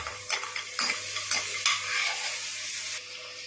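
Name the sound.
almonds and cashews frying in ghee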